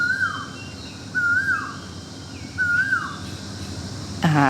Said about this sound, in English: There's a wolf whistling bird.